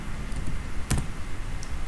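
Typing on a computer keyboard: a handful of quiet, close clicks and one sharper key tap near the middle, alone with no voices.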